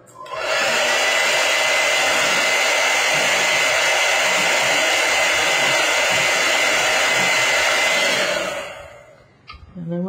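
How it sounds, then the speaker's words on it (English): A hair dryer runs steadily for about nine seconds to dry paint on paper, loud and close, then switches off, leaving faint handling noises. "let me just dry that with the hairdryer."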